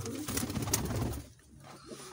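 Low, soft pigeon coos murmur close by, a brief throaty burble that fades into quiet before stirring again.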